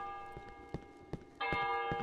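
A bell in the video game Cry of Fear strikes once near the end, a loud, ringing tone that follows a few soft clicks and knocks.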